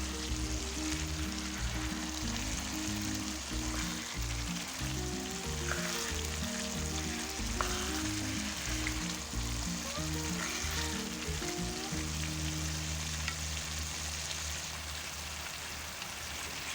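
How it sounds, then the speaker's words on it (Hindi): Grated carrots frying in a pan for gajar ka halwa, with dry fruits mixed in, give a continuous close sizzle with occasional stirring scrapes, over a low tonal hum in the background. "ہم یہاں پر گاجر کا حلوہ بھون رہے ہیں"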